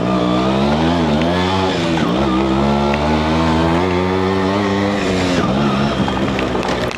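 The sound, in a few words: Yamaha RX100 two-stroke motorcycle riding off-road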